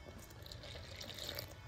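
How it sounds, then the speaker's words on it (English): Water trickles from a tap into flour for Jamaican boiled dumpling dough, a soft, steady running stream with faint splashing, close and quiet, no talk. "you just want to add small portions of water"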